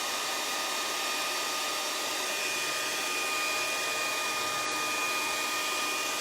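A hair dryer blowing on freshly applied Unicorn SPiT wood stain to dry it, a constant, loud, even whoosh with a steady motor whine throughout, close and uninterrupted.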